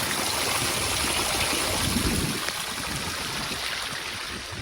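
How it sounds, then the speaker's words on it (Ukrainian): Rainwater from about 100 mm of rain rushes steadily through a farm drainage channel, a continuous broadband roar with churning splashes throughout. "Дивіться, яка бурхлива річечка."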